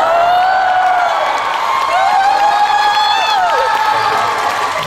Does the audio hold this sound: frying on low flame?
no